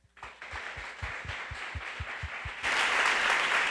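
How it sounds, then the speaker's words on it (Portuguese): Congregation in a church worship service breaking into applause, building from scattered claps over a low rhythmic beat into a fuller, louder burst of clapping near the end. "Quantos de nós somos capazes de aplaudir esse Deus?"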